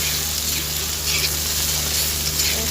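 Oil sizzling in a pan while frying ingredients before fish goes in for an Assamese fish curry, a steady close crackling hiss with a low hum underneath and no talking.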